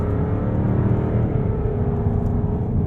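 A 2024 Jaguar F-Type R75 carries speed into a curve and brakes hard on full ABS, heard from inside as a loud, steady low engine and road rumble with a whir and no clear pulsing.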